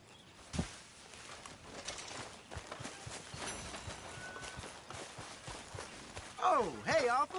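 Horses walking in the video game Red Dead Redemption 2, soft irregular hoof clip-clops at moderate distance amid ambient game sounds, with a brief tonal effect near the end.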